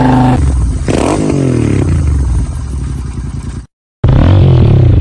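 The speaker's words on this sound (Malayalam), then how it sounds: "ഹോണ്ടയുടെ പഴയ ഒരു മോട്ടോർ സൈക്കിൾ പരിചയപ്പെടുത്താൻ" An old Honda motorcycle engine runs loud and close, revving with a rough clattering idle, then cuts to a brief silence before the engine noise resumes.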